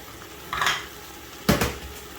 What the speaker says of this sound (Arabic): بضيف الرز أول شيء، وبعدين بضيف الماء علشان أوريكم قياسات الماء